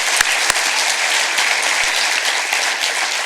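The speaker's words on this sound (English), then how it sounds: "I want everyone to give the organizing committee a round of applause" Audience at a mapping talk gives the organizing committee a round of applause, dense even clapping filling the room throughout with a few sharper nearby claps.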